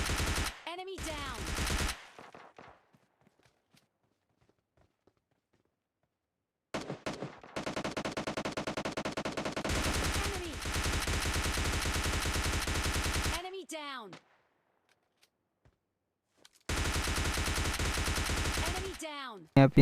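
Gunfire from the mobile shooter game PUBG Mobile Lite comes in long sustained automatic bursts separated by silent gaps, loud and close, with a few single shots between them.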